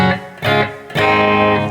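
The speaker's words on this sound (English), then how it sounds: "So here's the room reverb." Electric guitar notes played through a Strymon BigSky pedal's room reverb, three plucked phrases about half a second apart, each ringing into a short, close ambient tail with no voice.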